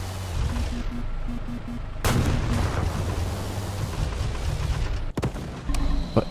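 Heavy tank cannon blasts in a multicrew tank combat video game, a loud boom near the 2-second mark and another sharp shot around 5 seconds, over a constant rumbling engine and battlefield din.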